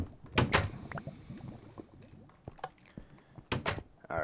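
Wooden door opening and closing in Minecraft, with sharp game clunks near the start and again near the end over a low, busy background.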